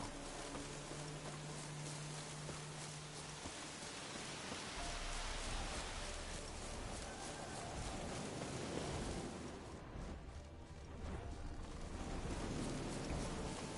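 Steady rain falls in the video game The Witcher 3: Wild Hunt, a constant soft hiss of drops that stays even and fairly quiet throughout, with no talk.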